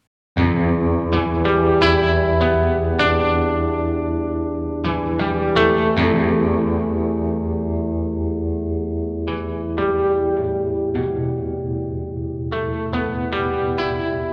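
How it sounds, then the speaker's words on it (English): A twangy Danelectro-style electric guitar plays bright, ringing chords and single notes in a steady rhythm, with a chorus-like shimmer and a sustained close tone. "your classic Danelectro twangy American guitar sound"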